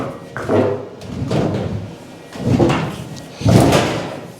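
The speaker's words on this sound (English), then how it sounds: "door shuts now" A door on the Project Mosquito restoration, a de Havilland Mosquito aircraft, swings shut with a couple of solid knocking thuds, close and fairly loud, with low rustling and handling noise in between.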